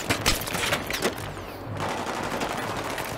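Light machine gun fire in the video game Battlefield 3 roars in loud, close, rapid bursts that blend into a continuous rattle of shots and noise.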